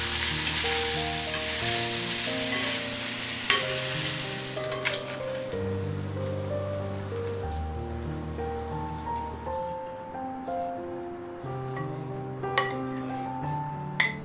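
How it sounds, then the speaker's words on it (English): Small pieces of chicken sausage sizzle and crackle steadily in hot oil, a continuous frying hiss with occasional spatters, alongside a low background hum of music. "Adding some more oil and frying the chicken sausages that's cut into small pieces."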